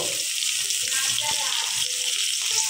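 Chopped onions fry in oil in a pan, producing a dense, continuous close sizzle and bubbling hiss that stays at an even loudness throughout.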